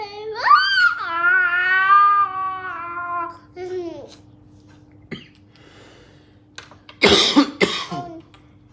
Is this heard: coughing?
yes